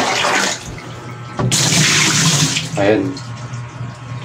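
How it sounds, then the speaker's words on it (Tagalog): Water gushes from a tap into the tub of a Eureka washing machine with a drain problem, a loud close splashing stream that cuts in after a brief pause, with a short spoken word over it. "Itatry natin muna siyang lagyan ng tubig"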